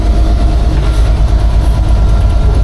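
Steady loud rumble and rattle of a Reading & Northern train from inside the engineer's cab, a continuous low engine drone with faint clickety-clack of wheels on rail.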